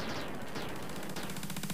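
Rapid bursts of gunfire from shooting in the Aliens arcade game, a dense, steady clatter of shots running without pause through the short stretch.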